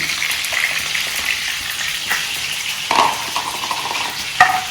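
Cumin seeds stirred and roasted in a hot pan, giving a steady close sizzle with scraping spoon strokes and a few sharper clinks throughout.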